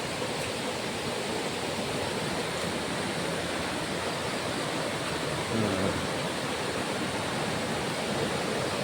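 River water flows over rocks in a shallow stretch of river in Perak, making a steady, full rushing noise that continues unbroken throughout, with no voices.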